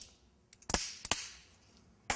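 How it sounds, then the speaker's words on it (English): Ice is cracked to chill a martini glass. A few sharp, close cracks and snaps come in a quick cluster, then one more crack follows after a short pause. "I'm going to chill my glass. And the way I'm going to do that is by cracking some ice."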